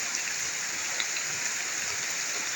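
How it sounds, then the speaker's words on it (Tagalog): Heavy rain pours steadily, a dense constant hiss with occasional louder drips standing out. "ang lakas ng ulan"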